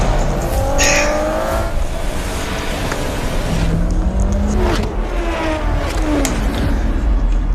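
Racing cars in an online racing video game, engines roaring and revving with pitch sweeps as cars pass, tires squealing and skidding, loud and continuous.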